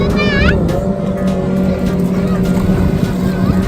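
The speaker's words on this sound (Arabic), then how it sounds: "شوف الدبابة اللي هناك تلين" Jet skis racing at sea off a beach give a steady, loud engine drone with a constant hum, and people talk over it throughout.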